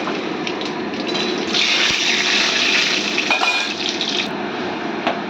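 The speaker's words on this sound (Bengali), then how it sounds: "আবারও তেল দিয়ে দিয়েছি, গরম হয়ে গেছে, সর্ষে আর শুকনো লঙ্কা দিয়ে দিলাম।" Mustard seeds and dried chillies hit hot oil, giving a dense, steady sizzle and hiss that swells partway through and carries on evenly, close and fairly loud, with no talking.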